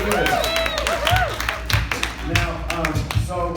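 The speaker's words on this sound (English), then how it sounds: "Clap it up for yourselves." An audience clapping at a talk or workshop, a dense patter of many hands mixed with voices and cheering, close and lively over a few seconds.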